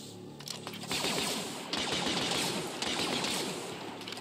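Rapid bursts of gunfire in the game Deathtroopers: A Star Wars Horror Story crackle in quick succession, a dense rattling volley that swells and repeats over a few seconds.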